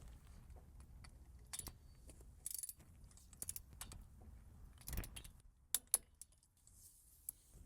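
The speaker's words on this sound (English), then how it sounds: "I'm gonna tighten the fuel plug to 37 foot per pound." A torque wrench tightens the steel CVT pan plug on a Subaru Outback, giving sparse, faint ratchet clicks and small metallic ticks in a quiet space, with no talking.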